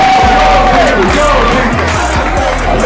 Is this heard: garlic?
no